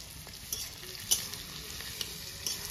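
Onion fries in a pan for a home-cooked fish dish, making a low, even sizzle with a few faint clicks and scrapes and no talking.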